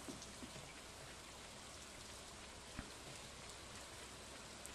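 Soft, steady rain falls on an island in the video game Stardew Valley, a quiet even patter that stays faint and constant with a few slightly sharper drops and no voices.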